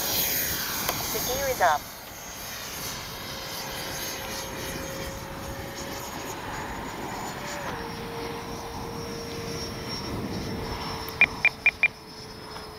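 A Freewing 90mm F4 Phantom II electric ducted-fan RC jet on its maiden flight takes off, a steady high whine that shifts pitch midway as it climbs away, with someone talking over it and a few sharp beeps near the end.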